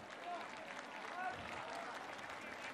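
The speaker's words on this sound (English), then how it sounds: "the fans give him a nice round of applause" Crowd at a high school football game between Lee's Summit North and Blue Valley North gives a sustained round of applause, a steady wash of clapping and cheering heard from a distance, with a commentator talking over it.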